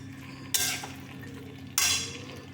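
Pumpkin curry (kumro chhokka) stirred in a pan with a fried spice mix: two brisk scraping strokes about a second apart over a steady low kitchen hum.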